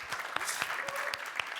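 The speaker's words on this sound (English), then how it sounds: "Big applause for Renate." Clapping from an audience after a startup pitch at an Austrian scaleup investment event, a steady patter of hands with a few sharper claps.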